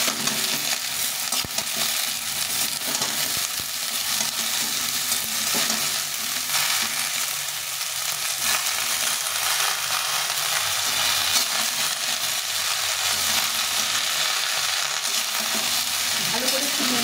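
Half a small cauliflower and mixed vegetables fry and get stirred in a pan for a vegetarian curry, giving a steady close sizzle with scraping stir strokes throughout and no talking.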